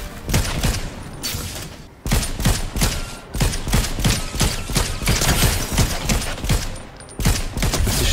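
Rapid bursts of gunfire in a Zero Build ranked video game match crackle in quick volleys, loud and close, with brief pauses between strings of shots and mechanical clicks.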